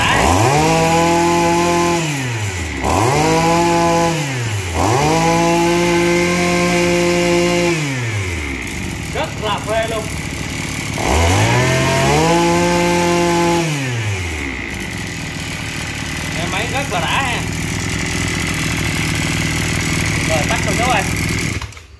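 A Japanese P8 24cc brush cutter engine is repeatedly revved, rising and falling in several loud surges, then settles to a rough idle while voices talk over it in the background.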